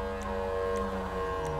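A wailing ambulance siren in a video game, with tones sweeping up and down under a steady engine-like hum, fairly close and loud.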